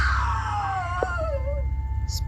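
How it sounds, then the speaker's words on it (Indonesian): A loud scream from a bathroom in a horror story: one long wailing cry that slides downward in pitch, heard over a low rumbling drone, with a brief sharp sound near the end. "Ratna dan Penny dikagetkan dengan suara jeritan yang keras sekali dari kamar mandi."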